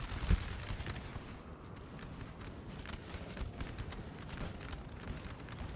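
Artillery counter-battery fire in Napoleon Total War, a distant rolling mix of cannon booms and scattered musket-like cracks, with a sharper thump near the start over a constant battlefield rumble.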